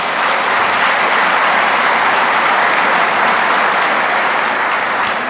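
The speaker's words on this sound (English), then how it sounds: "Let's have a round of applause for BPAA." Loud, dense applause from a large crowd at a bowling convention annual meeting, sustained evenly throughout with no letup.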